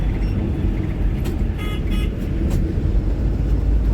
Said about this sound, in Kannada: ಓಕೆ ನಾನು ಬಸ್ ಬರ್ತಾ ಉಂಟು ನಾನೀಗ ಬಸ್ನೊಳಗೆ ಹೋಗ್ತೇನೆ